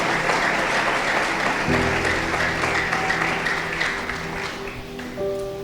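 Church congregation at a French-language worship service breaking into sustained applause and cheering that fills the room, with a tonal hum and faint musical notes rising beneath the clapping toward the end.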